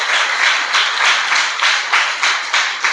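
Church congregation clapping in praise during a Sunday service, a steady rhythmic swell of many hands with regular pulses, loud and close, no talk.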